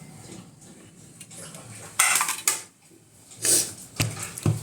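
Multigrain flour being mixed by hand in a bowl, with close, irregular clinks and scrapes of utensil against dish and soft rubbing between them.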